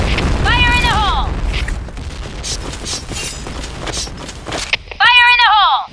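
A grenade goes off in the video game Insurgency Sandstorm with a loud, deep rumbling blast early on, followed by scattered clatter and debris as voices shout before and after.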